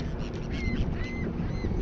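Birds calling over the Detroit River during white bass fishing, a few short honking, quacking cries rising above a steady background rumble of wind and water.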